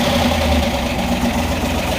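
A Chevy Nova SS396 with solid lifters idles steadily after a cold start, its lifters clattering in a continuous close, loud rattle over a low engine drone, with no voices.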